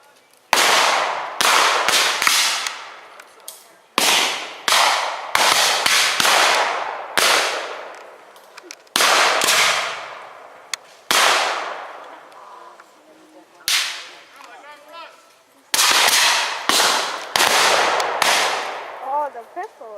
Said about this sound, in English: Oh, the pistol was loud that time. And it was a double barrel.